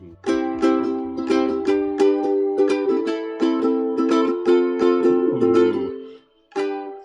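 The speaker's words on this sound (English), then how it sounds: "I'm going to activate chorus mode, and it's going to sound like this" Bright plucked ukulele notes with a shimmering chorus effect, played in a steady rhythmic pattern, close and clear, with a short pause before a final strum.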